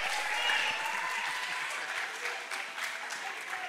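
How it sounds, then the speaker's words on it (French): Steady applause from a gathered audience fills the moment, a continuous patter of many hands that eases slightly before a final flurry. "On applaudit!"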